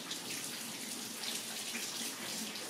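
Tap water runs steadily into a sink as hands are washed in a home kitchen, a soft, even hiss heard close by and without a break.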